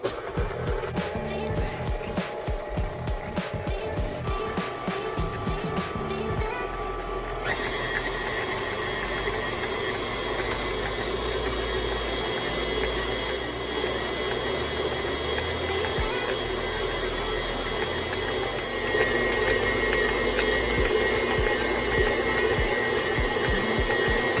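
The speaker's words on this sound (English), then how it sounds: "we get our amazing whisk on here on our trusty KitchenAid, and you start it slow" A KitchenAid stand mixer fitted with a whisk stirring natural peanut butter, its motor whirring continuously at close range, with the pitch shifting as the speed changes.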